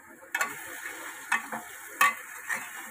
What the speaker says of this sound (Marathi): हे बघा, आता आपला कांदा टमाटा भाजलाय